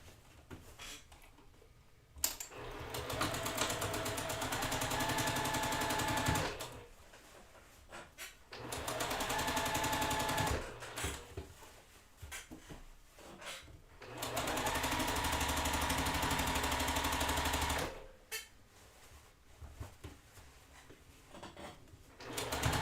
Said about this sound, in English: now, we are going to go ahead and sew the long seam together